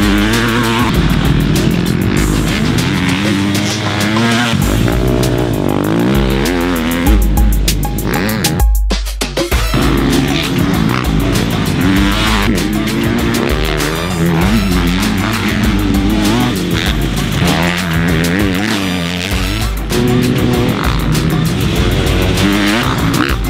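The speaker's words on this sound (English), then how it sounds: "Today, we get our first chance to ride the 2020 Husky FC250." A 2020 Husqvarna FC250 motocross bike is ridden hard, its engine revving loudly and continuously through rising and falling gear changes, close and dominant across the whole stretch with a brief break midway.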